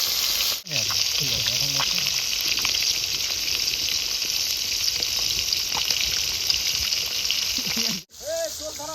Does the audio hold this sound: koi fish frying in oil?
yes